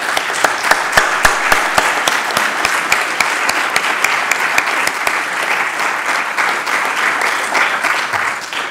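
Loud, sustained applause from an audience at an award ceremony, dense and even with some sharper individual claps standing out early on, continuing for the whole stretch.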